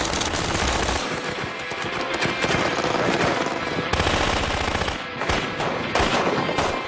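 An IAR automatic rifle chambered for standard 5.56 magazines fires loud sustained bursts of rapid gunfire, close and dense, with a brief break midway before firing resumes.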